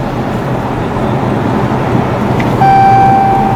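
Dodge Challenger Shaker rebuilt after an accident, its engine running on a test drive as a low, steady rumble under road and wind noise, with a sustained tone, like a chime or warning beep, joining near the end.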